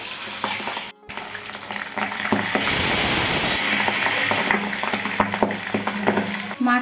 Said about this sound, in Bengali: এক পিঠ ভাজা হয়ে গেছে, আর এক পিঠ উল্টে দিচ্ছি